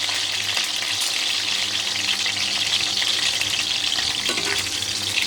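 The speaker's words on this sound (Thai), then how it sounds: "พอดีมีพริกหยวกเหลืออยู่ สี่ห้าเม็ดก็เลย นำมาทอด ทอดไม่นานนะคะ" Bell peppers frying in hot oil make a loud, dense, unbroken sizzle close to the listener, steady throughout with faint bubbling; no voices.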